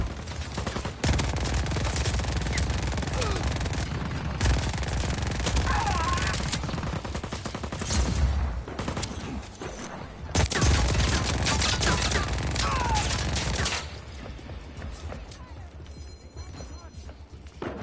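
Sniper and other gunfire in Just Cause 4, dense bursts of shots and sharp cracks across a noisy battle soundscape, loud and near, with a voice occasionally heard.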